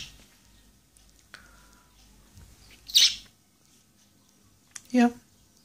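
A hand-reared baby sparrow gives two sharp, close chirps a couple of seconds apart over a quiet indoor background with soft clicks and faint handling noise.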